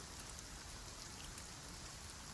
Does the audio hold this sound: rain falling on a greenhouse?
yes